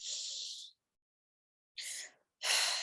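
Deep, airy breaths drawn during a calming tapping exercise: three close, breathy rushes of air, the first long and steady, then a short pause, then two quicker breaths, with no talking.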